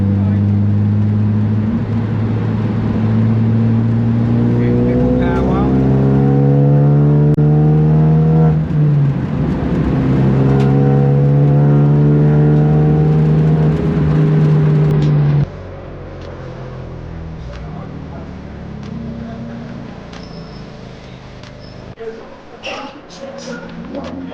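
A Renault Clio Cup race car with a sequential gearbox drives on a race track, its engine loud and close, revving up and down through gear changes, then easing to a lower, quieter drone with some faint rattles.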